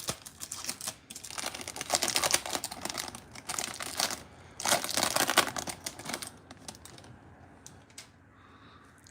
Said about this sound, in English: So let's pop open the first pack, see what kind of cards we get.